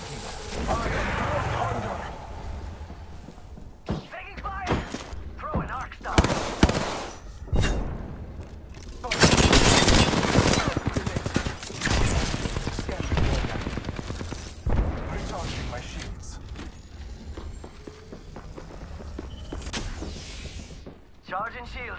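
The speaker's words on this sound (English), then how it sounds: "They're shooting at me." Apex Legends gunfire fills the scene with dense, loud bursts of automatic and single shots, explosions and impacts coming in clusters with short pauses, while a player talks over the combat.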